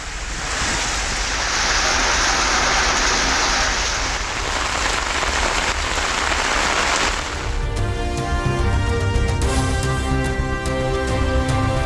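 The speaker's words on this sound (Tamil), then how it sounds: "தமிழகத்தின் பல்வேறு பகுதிகளில் இன்றும் பரவலாக மழை." Rain falls steadily in Tamil Nadu, a dense hiss that thickens and swells over several seconds before giving way to sharper patter and drips, with no voices.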